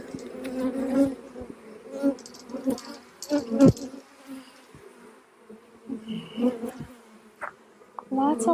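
Honeybees drone and buzz loudly around an opened beehive, close by in swelling, uneven waves as insects fly past, with occasional faint movement sounds and no clear talk.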